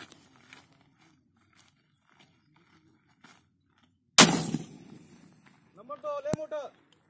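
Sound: 51mm mortar firing

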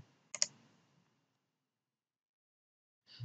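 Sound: computer mouse click on OK button

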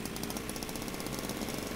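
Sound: Trabant engine sounding like chainsaw in video game Jalopy

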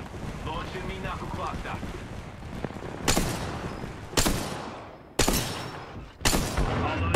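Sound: gunfire in the video game Apex Legends

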